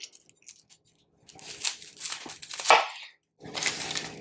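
A knife cuts the ends off a basic yellow onion in a kitchen for a rustic stew, giving several crisp, crunchy chops and slices close by, separated by short pauses.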